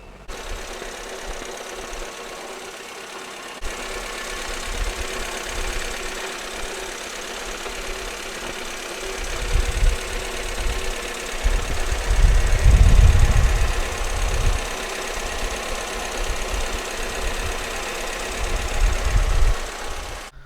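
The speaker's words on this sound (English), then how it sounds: "we're gonna turn on the engine so the water pump circulates the antifreeze" A Toyota Tercel engine idles steadily after a radiator replacement, with a low, rumbling knock that swells and fades in loudness over a long stretch, no talking.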